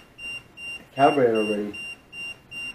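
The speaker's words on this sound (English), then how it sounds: "Is it the alarm off?" Short electronic alarm beeps repeat at a steady rhythm in a basement, several evenly spaced chirps sounding under a brief stretch of talk.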